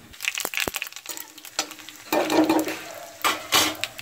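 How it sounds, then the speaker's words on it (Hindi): Bay leaves, panch phoron and dried red chillies crackle and sizzle in hot oil with stirring clatter and scraping, bursts of frying rising and falling close by. "अब मैं इसमें तड़का लगाऊंगी तेज पत्ता,"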